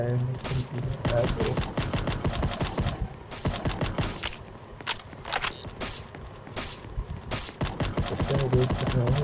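Rapid bursts of gunfire in a Roblox hide-and-seek game, dense volleys of sharp shots crackling almost continuously at close range, with a voice talking over them.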